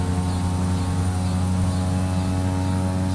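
A simulated Cessna 208B Caravan turboprop engine throttling up in the Prepar3D flight simulator makes a loud, steady propeller drone with a strong low hum and constant pitch throughout.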